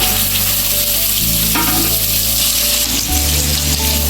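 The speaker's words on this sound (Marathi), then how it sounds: "आता आपण हे आपलं राहिलेलं दुसरं पॉपलेट हे पण तळून घेऊया" A pomfret fish frying on a tawa gives a loud, continuous close sizzle throughout, with a faint shift partway as the fish settles in the oil.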